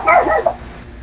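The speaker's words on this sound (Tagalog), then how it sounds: "Yan ang aso." A dog gives a quick pair of close, high yips that trail off into a faint whine within about a second.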